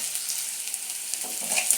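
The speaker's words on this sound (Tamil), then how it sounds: "வெங்காயம் வதங்கிருச்சு." Sliced onions fry in a hot pan with a dense, steady hiss and faint crackle, close and continuous with no voices.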